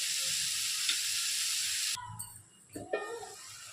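A ridge gourd and moong dal curry cooks in a covered pan, giving a steady sizzling hiss for about two seconds before it cuts off, followed by a few light clanks and knocks.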